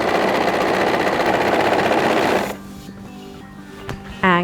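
A sewing machine runs at a steady fast clip while batch sewing dungaree pieces, a close, loud mechanical whir that stops partway, leaving quiet clicks and handling sounds and a brief whine at the end.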